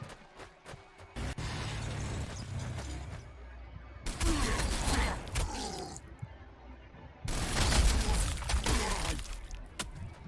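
Bursts of gunfire and crackling weapon impacts in the turn-based strategy game Warhammer 40,000: Sanctus Reach, sharp clicks then two loud noisy volleys separated by quieter gaps.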